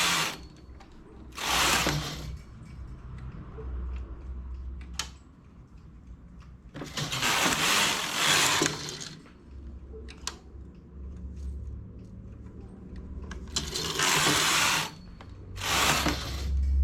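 A knitting machine works a fitted second-skin sweater with sleeves. Its carriage makes loud, broadband rasping sweeps across the needle bed in repeated bursts of one to two seconds, separated by quieter gaps with a low hum underneath.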